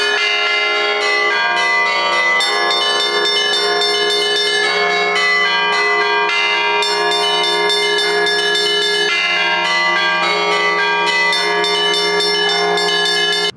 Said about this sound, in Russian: Торжества продолжил 6-й межрегиональный фестиваль колокольного искусства